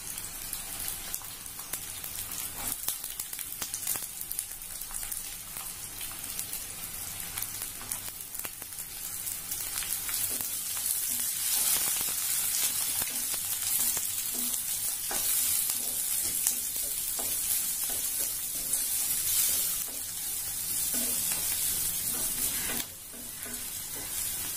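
Onions sautéing in a pan for prawn thokku, a long, steady rain-like sizzle with intermittent stirring scrapes, close and unbroken by speech.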